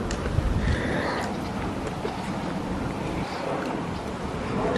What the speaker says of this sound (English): Because it's wind.